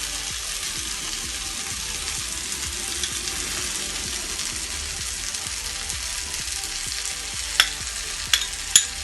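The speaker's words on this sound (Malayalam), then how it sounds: "ഇനി നമുക്കിതിലേക്ക് മുട്ട ഒഴിച്ച് കൊടുക്കാം." Beaten eggs frying in a hot pan for bread anda bhurjee, a constant dense sizzle with stirring scrapes and a few sharp utensil clicks near the end.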